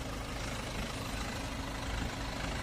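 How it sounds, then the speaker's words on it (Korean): A BMW 520d diesel engine idling with intermittent shaking, heard as a faint, steady low rumble with a rough, uneven texture throughout. "막 엔진이 막 좌우로 막 난리 났어."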